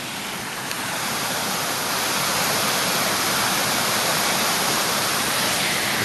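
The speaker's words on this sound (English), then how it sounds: "I've never been to somewhere that has a waterfall in their driveway." A waterfall beside a driveway rushes in a dense, steady roar, loud and unbroken, with no voices.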